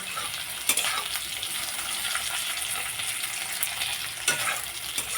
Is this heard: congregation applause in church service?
no